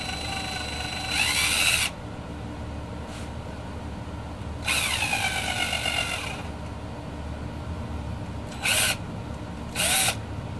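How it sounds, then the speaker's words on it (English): Short bursts of a power drill whining as it slowly drills a hole in an Epiphone Les Paul Junior guitar body, starting and stopping several times with quiet pauses between, close and loud. "we're going to drill very slowly and very carefully"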